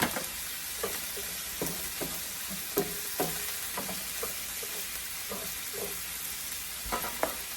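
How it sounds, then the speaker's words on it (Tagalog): Chopped onion sautéing in a spoonful of vegetable oil in a pan, giving a steady faint sizzle broken by repeated short scraping stirs and clinks through the whole stretch, with no one speaking. "Lakatin mo ng sibuyas"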